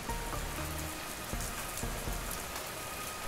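Steady rain patters on a surface in a continuous dense hiss, with a few heavier drips and taps standing out, and no voices over it.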